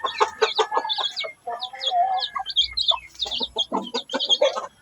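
A hen and her chicks cluck and cheep up close, with the high chick peeps and the lower hen clucks coming in quick, overlapping bursts.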